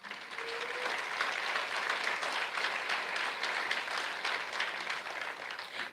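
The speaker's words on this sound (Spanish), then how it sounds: "Dele un aplauso al Señor" A church congregation applauds to praise the Lord, with dense, steady clapping that holds for about six seconds before tapering off at the end.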